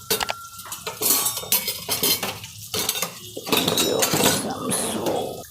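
Bhajiya fritters tipped into a pan and stirred, with metal spoon clinks and scrapes against the cookware and a faint sizzle underneath.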